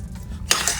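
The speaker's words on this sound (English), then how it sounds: "Heat this until it is melted," A spoon stirring melting marshmallows in a pot, a soft scraping swish that starts halfway through, close and fairly quiet.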